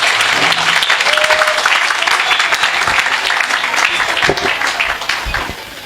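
Loud, dense applause from a crowd in a seminar hall, sustained clapping for several seconds that gradually tapers off near the end, with some voices mixed in.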